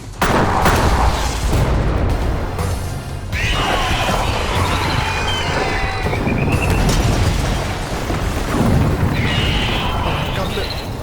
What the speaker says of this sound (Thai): ปืนใหญ่ยิง ปืนใหญ่ยิง